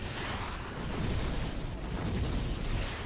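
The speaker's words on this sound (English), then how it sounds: "that is definitely Fire Spray" The Fire Spray spell in the Demon's Souls video game roars as a loud, sustained rumbling blast of flame, dense and steady for about three seconds.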